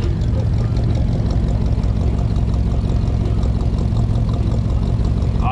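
Petrol engine of a ramp truck idling at an American car show in Tokyo, a loud, steady low rumble with even exhaust pulsing throughout and no talk.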